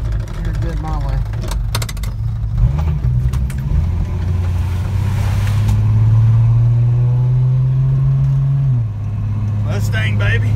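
A 1966 Ford Mustang driving, its engine droning low and loud, rising steadily in pitch as it accelerates and then dropping as the revs fall, with voices talking over it.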